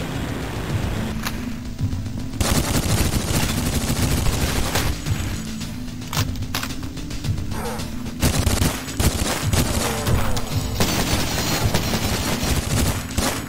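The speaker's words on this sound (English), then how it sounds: "Okay, using the machine gun." Sustained machine gun fire in the shooter game Cultic, dense rapid bursts rattling almost continuously for over ten seconds with short breaks, loud and close, mixed with other game noise.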